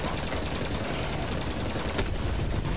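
Rapid automatic gunfire rattles nonstop in Borderlands 3, loud and dense bursts with explosions layered in, no talk over it.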